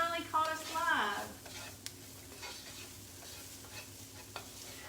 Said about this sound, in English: I'm going to add a little bit of garlic to these onions